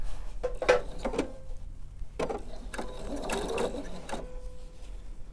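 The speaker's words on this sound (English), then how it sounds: "so let me sew this" A sewing machine runs a quilt seam, its mechanism clattering in short, uneven bursts close by, with pauses of low hum between them and no talking.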